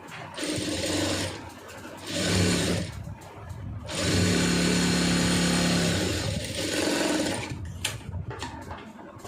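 A sewing machine stitches a blouse in bursts, each run a whirring mechanical hum lasting one to two seconds with short pauses between, close by, with faint handling noise.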